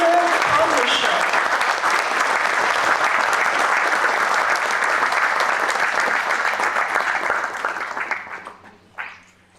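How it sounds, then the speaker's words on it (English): A large audience applauds steadily at a formal ceremony in Kohima where the Union Finance Minister launches a tech-education scheme and hands over certificates; dense, even clapping fills the room for about eight seconds, then fades out. "Let's have a big round of applause"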